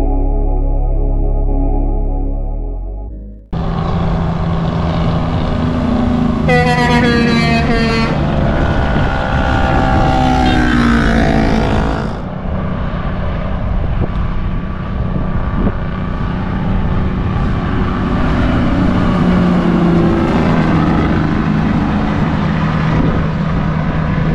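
Heavy truck on a Chilean road with its Jacobs engine brake engaged, a loud rapid staccato rattling drone that rises and falls through several shifts before easing into a steadier rumble, with no talking.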